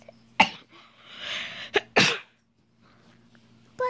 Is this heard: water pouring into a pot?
no